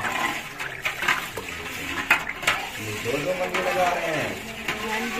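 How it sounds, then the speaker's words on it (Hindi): Sugar is stirred into a mixture in a big pot, with a metal spoon clinking and scraping against the pot and liquid sloshing, while people talk nearby. "इधर मैं बैठ के मिक्स करता हूँ इसको हाँ, चीनी तो मिक्स हो गई है"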